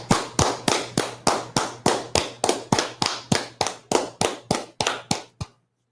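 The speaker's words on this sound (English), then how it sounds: "Let's clap it up." Steady, evenly spaced clapping, about sixteen sharp claps at a slow even rhythm, loud and close, stopping abruptly.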